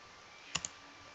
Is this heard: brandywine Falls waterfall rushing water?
no